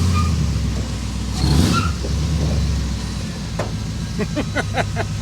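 An old Chevy COE truck rumbles along at low speed with a heavy, steady engine drone, a brief louder surge in the middle, and a series of short clanks and rattles near the end.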